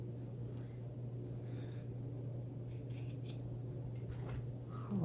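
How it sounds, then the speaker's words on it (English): Scissors snip steadily while cutting a fabric appliqué shape for a quilt block, a soft close rustle over a low steady hum with no talk. "And just cut the shape out all the way around."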